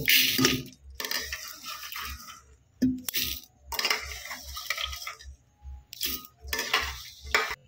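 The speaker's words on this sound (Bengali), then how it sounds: "ডালটাকে আমি প্রেসার কুকারের মধ্যে দিয়ে দিচ্ছি।" Dry dal lentils are poured and dropped into a metal pressure cooker in a home kitchen, giving several short bursts of rattling, clinking grains against metal separated by quiet gaps, close and fairly soft.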